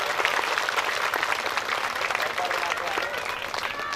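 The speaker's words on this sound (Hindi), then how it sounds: "जोरदार तालियों से स्वागत करें।" Loud, dense applause from a crowd at a Hindu religious gathering, a Bhagavat Katha recitation in Prayagraj, India, a continuous roar of clapping filling the clip with voices mixed in.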